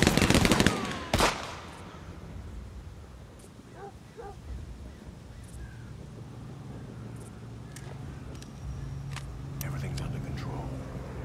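Automatic machine gun fire in the World War II video game Partisans 1941: a loud, close burst rattles out at the start, then gives way to quieter battlefield ambience.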